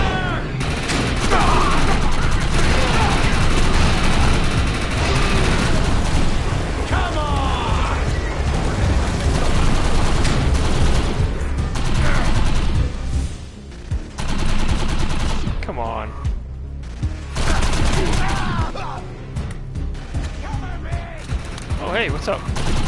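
Dense gunfire in the video game Defiance 2050 on PS4, with loud, sustained bursts of automatic fire and booms that barely let up and thin out briefly near the middle, with a voice heard at times.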